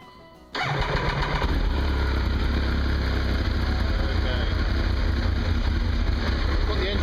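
A Triumph Daytona T595 motorcycle is started after a long layoff, a brief starter crank catching into a loud, steady, close idle that holds evenly.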